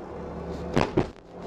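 A Mercedes EQS 450 electric full-size SUV rolls quickly over a speed bump, giving two short dull thuds from the rear over a steady cabin road hum.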